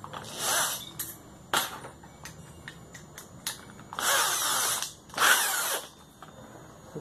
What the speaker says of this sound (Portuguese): aqui no meio eu vou furar.